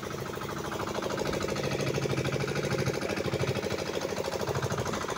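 A boat's engine runs on a river again after 20 years buried, a steady close, rhythmic chugging knock that holds loud and even throughout with no voices.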